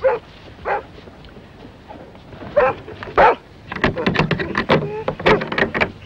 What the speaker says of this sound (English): That dog, it'll wake the whole village.